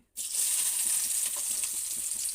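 Ground coriander, cumin, turmeric and asafoetida sizzle steadily in hot oil in a pan, a bright close frying hiss that starts suddenly and continues unbroken.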